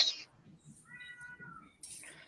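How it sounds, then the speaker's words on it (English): A pet cat gives a drawn-out, faint meow in the middle, set against quiet background noise, with brief clattering hiss at either end. "That's my cat. He's a crybaby"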